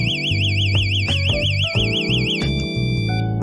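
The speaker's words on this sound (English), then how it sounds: "Third button, instant alarm. Just press to make it ring immediately." An InnoCase luggage alarm rings at close range, a loud continuous warbling electronic siren with a wavering high tone over shifting lower tones, sounding alone without a break.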